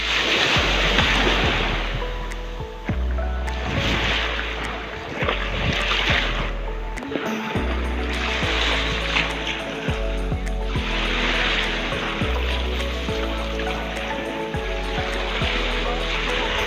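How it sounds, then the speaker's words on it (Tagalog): Strong waves wash ashore at Bathala Beach in Marinduque, a steady rushing surf with recurring swells, while a low droning hum and tonal background sound run underneath. "medyo malakas ang alon ngayon, no?"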